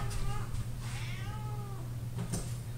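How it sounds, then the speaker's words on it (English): A stray cat meows near a house kitchen, several drawn-out rising and falling cries in a row, close and fairly clear over low background hum. "looks like the stray cat's here"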